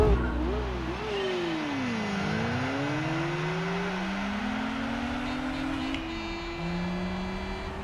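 A small Peugeot racing in Gran Turismo 4, its engine revving up and dropping through gear changes, then a long rising pull, with brief tire scrub; someone talks over the steady engine drone.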